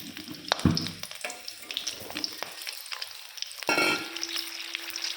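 Oil crackles and spits sharply as mustard seeds, dried red chillies and green chillies hit the hot pan, sputtering bursts over a steady sizzle, close and loud, with no talking.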